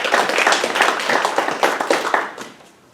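Applause from the audience at a landlord and voucher workshop run by a housing resource center in Pacific Grove, California: dense, steady clapping from many hands that tapers off toward the end.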